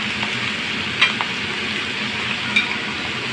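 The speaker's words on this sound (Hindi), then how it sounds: "ये मैं ज़ीरा डाल रही हूँ इसमें" Cumin seeds and whole garam masala sizzling in a hot pan for keema, a steady soft hiss with a couple of brief clinks from a spoon.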